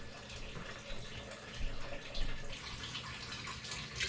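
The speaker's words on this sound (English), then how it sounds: "I'll bring the water level up to about maybe a half an inch below the top of the stock pot." Tap water running steadily into a stock pot for chicken bone broth, a continuous rushing splash with no pauses and no voices over it.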